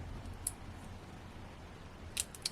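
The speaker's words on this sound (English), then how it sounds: "I can just run my scissors along them" Scissors trimming little pips from the edges of handmade Christmas card layers, quiet close snips heard as a single click early on and then a quick pair near the end over a faint hiss.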